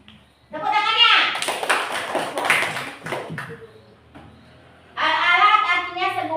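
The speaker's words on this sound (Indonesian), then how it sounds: "Tepuk tangannya." Children in an Islamic studies classroom clap their hands in a brief burst of rapid, close applause, with a voice joining in and a second short round of clapping and chatter near the end.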